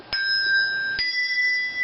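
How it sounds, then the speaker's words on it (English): Handbells held in a four-in-hand grip are struck twice, about a second apart, each stroke a bright, clear ring that sustains and overlaps the next. "So all I did was take the bell that was on top and I slipped it inside"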